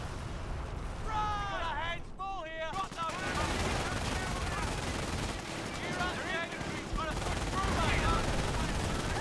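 Rapid MG-42 machine-gun bursts crackle through a Company of Heroes battle, dense and steady, with overlapping voices shouting over the gunfire.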